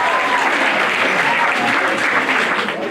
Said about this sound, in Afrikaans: Julle kan hande klap vir daai keer.